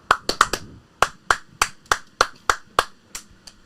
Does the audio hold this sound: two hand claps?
yes